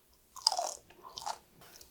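Crunchy roasted peas being chewed close up, a few crisp crunching bites that come in short bursts with quiet pauses between them, no talking.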